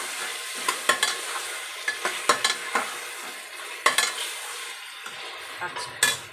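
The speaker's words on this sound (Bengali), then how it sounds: "এবার আমি চিকেনটা এর মধ্যে দিয়ে দিলাম" Chicken pieces go into a curry in a pressure cooker and are stirred, with repeated sharp scrapes and clinks of a spoon against the pot over a soft frying sizzle, close and irregular.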